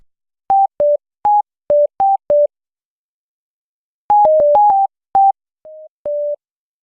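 Short synthesized tones picked out from Resident Evil 2 Remake music, played as clean isolated beeps in a sparse pattern: six evenly spaced notes, a pause, then a quicker cluster and a few longer held tones, loud and dry.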